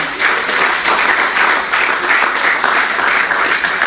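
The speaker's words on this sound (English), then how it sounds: "Saya, a round of applause for them." An audience applauds performers at a book launch, with dense, steady clapping that stays loud and unbroken throughout.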